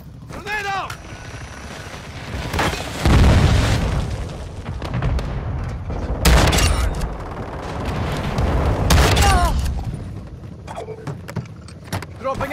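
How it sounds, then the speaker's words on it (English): Grenade blasts and gunfire in a Call of Duty game, several heavy booms spaced a few seconds apart amid crackling shots and voice callouts. "Grenade out!"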